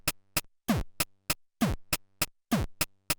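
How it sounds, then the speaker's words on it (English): A pocket operator drum machine plays a waltz rhythm in 3/4 of kick drums and crisp hi-hats, booming pitched-down kicks alternating with short bright ticks in a quick repeating triple pattern. It sounds close and dry, with no voices. "That's a waltz, basically kick, hi-hat, kick, hi-hat"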